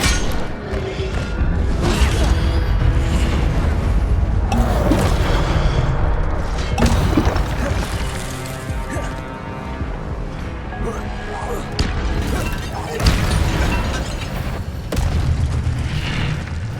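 Incendio fire spells cast during a fight in the game Hogwarts Legacy, loud repeated booming bursts and impacts over dense continuous combat noise, with a voice briefly shouting.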